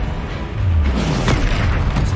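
A Bombarda blasting spell from Hogwarts Legacy goes off with a deep, rumbling boom that swells and lingers beneath other spell effects.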